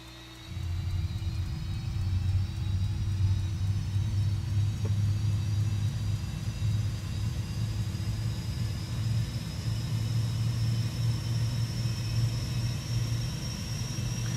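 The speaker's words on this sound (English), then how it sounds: "Hear the APU." Auxiliary power unit of a Fenix A320 airliner in Microsoft Flight Simulator 2024 running steadily, heard from outside the aircraft: a constant low rumbling drone with a thin rising whine above it, loud and unbroken with no talk.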